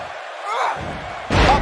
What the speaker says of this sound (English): Up and over with a suplex.